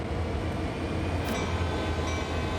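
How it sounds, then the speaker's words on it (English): A passing train in the Train Sim World 2 game on the Sand Patch Grade route, a continuous loud rumble of rolling wagons with steady low drone and clatter, close and unbroken throughout. "Oh, there's a train."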